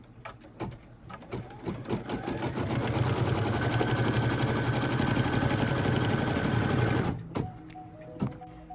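A sewing machine stitches the tack-down line of a quilt block piece, spinning up to a steady rapid whirring hum for a few seconds after some clicks and stopping abruptly, followed by a few faint handling clicks.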